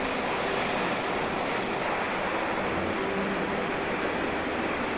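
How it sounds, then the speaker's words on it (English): Steep ocean waves churn where the incoming tide meets a powerful outflowing current, off the coast between Vancouver Island and Alaska. The surf roars loud and continuous, with gusting wind buffeting the microphone. "The incoming ocean tide creates steep waves where the two bodies of water meet"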